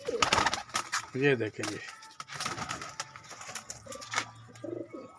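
Breeding pigeons in a cage, male chasing female, give a low cooing burst near the start amid close handling noise, with someone talking over most of it.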